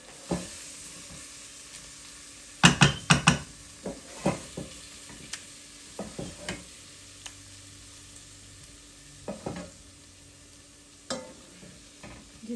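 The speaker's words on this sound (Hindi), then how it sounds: "अब जो हमने फ्राई की थी चिकन, उसमें हम ये मसाला ऐड करेंगे।" Masala being stirred into fried chicken in a pan for chicken jalfrezi, a low steady sizzle punctuated by repeated sharp spoon scrapes and clatters in irregular bursts, no talking.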